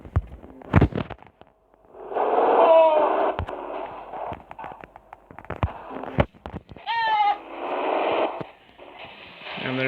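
A goat in an offroad driving video game gives two wavering bleats, each with a stuttering, warbling tone, between bursts of engine noise and sharp clicks, in a loud, close game soundtrack.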